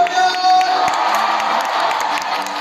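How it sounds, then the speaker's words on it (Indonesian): A crowd of fans at a TWICE meet and greet in Jakarta cheers, whoops and claps loudly and continuously, with high excited shouts layered through the din. "Mana tepuk tangannya untuk Nayeon?"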